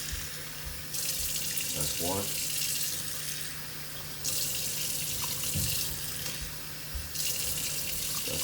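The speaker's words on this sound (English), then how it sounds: "Now we're gonna add the same amount of water that we added rice." Tap water runs into a pot of freshly washed rice in separate bursts, each starting and stopping sharply. It sounds close and steady, and a voice counts between the pours.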